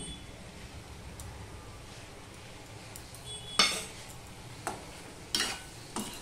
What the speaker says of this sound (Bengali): এইভাবে আমি ভালো করে কষিয়ে নেব